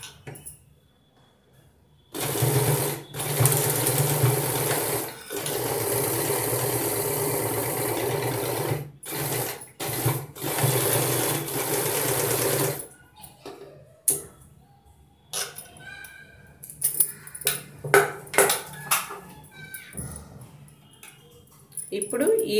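A sewing machine stitches fabric for a fabric phone pillow stand in a long loud mechanical run, then short bursts of stitching follow, with someone talking.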